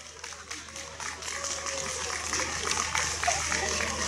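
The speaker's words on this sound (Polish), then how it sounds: "Brawa, drodzy państwo" Audience clapping at a village cultural ceremony in Ostaszewo, a steady crackle of applause building slightly over a few seconds, with a voice talking over it.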